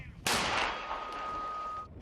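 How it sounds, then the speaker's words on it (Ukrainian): A single loud gunshot on the front line at Chasiv Yar cracks out sharply, followed by a long echoing rumble that slowly fades. "Постріл!"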